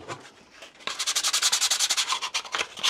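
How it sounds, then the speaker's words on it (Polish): Rapid back-and-forth sanding on a camper van roof in preparation for gluing solar panel mounts, close and fairly loud, with a quick rhythmic rasp of strokes after a brief quieter start. "Oczyszczamy, szlifujemy przed nakładaniem primera?"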